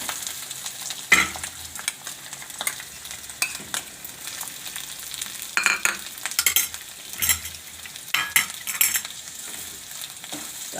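Potatoes being stirred in a pan for Bhavnagari chana dal shaak, with a spoon scraping and clinking against the metal in irregular bursts over a soft background sizzle, close and without talk.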